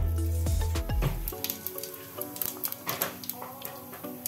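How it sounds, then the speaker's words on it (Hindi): Cumin seeds hit hot oil in a home kitchen pan while cooking dal fry, giving a sudden burst of crackling sizzle that settles into a steady, close hiss with scattered pops. "तेल गरम हो गया, अब मैं इसमें डालूंगी जीरा"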